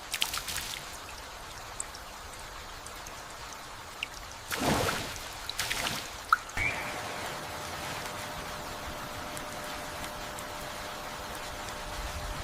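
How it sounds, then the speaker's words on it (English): Rain drumming on broad leaves in a dense, steady patter of drops, with a couple of brief louder pouring bursts and occasional nearby splashes, no voices. "The drumming of rain on the broad leaves creates a tapestry of calming, natural rhythms."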